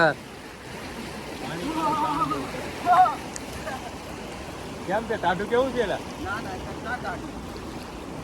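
Steady rushing of the Shetrunji river's flowing water and waves runs throughout, with people talking over it at intervals.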